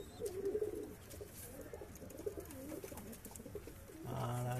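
Pigeons in a high-flying breeding loft coo softly in short repeated calls over low background hum, with a louder nearby coo swelling at the end.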